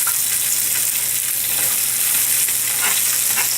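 Chopped peppers and yellow and orange onions frying in olive oil for a cheese steak make a loud, constant sizzle with a bright, hissing texture and small crackling pops.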